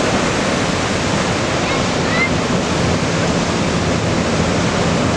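Ocean surf at a busy surf beach in Anglet with waves around three metres, a steady, dense roar of breaking waves filling the whole clip, mixed with wind noise.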